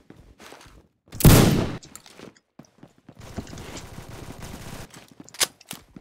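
Gunfire from a pistol and a Vector submachine gun in the Roblox game Phantom Forces: one loud close shot, then a quieter rapid burst and a few scattered sharp reports, with no talking.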